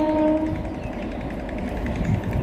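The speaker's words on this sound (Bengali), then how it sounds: "দিয়া খুব এক্সাইটেড ট্রেন দেখে হাই হাই করছে টাটা দিচ্ছে" A train passes nearby with a steady, loud rumble of rolling wheels and carriages that fills the whole short stretch without letting up.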